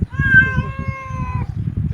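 A single drawn-out cat meow, clear and fairly close, over a low rumble of background murmur.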